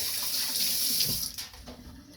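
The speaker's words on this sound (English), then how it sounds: "So give my hands a quick rinse in the sink." Hands are rinsed under a running sink tap, a close, steady rush of water that breaks up and fades in the last second as the hands move through the stream.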